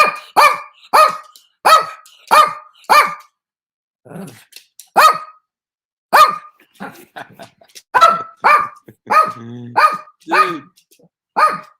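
Pet dog barking indoors, a run of loud, sharp barks in quick bursts with short pauses and a growl or whine between, close by, with no speech over them.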